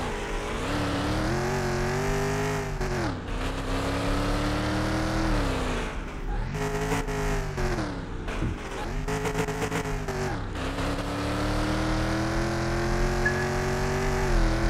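Race car engine in Car Mechanic Simulator 2021, a 1977 Smith&Parker Eliminator, droning loud and steady through a lap, its pitch rising and falling with repeated revving and gear shifts.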